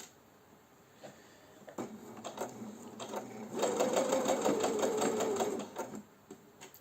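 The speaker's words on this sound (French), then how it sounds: "Donc je vais coudre 2 cm ici." A sewing machine stitches a short seam on fabric cleaning wipes, running in a steady fast burst of about two seconds, close and fairly loud, framed by a few scattered handling clicks before and after.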